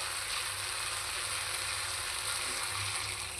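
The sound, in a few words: pre-boiled dal added to sizzling pan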